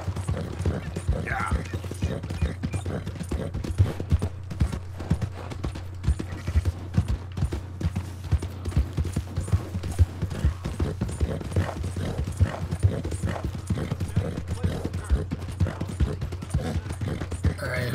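Horse hooves clip-clopping steadily along a road in the video game Red Dead Redemption 2, a continuous rhythmic patter under a low rumble, with someone talking over it.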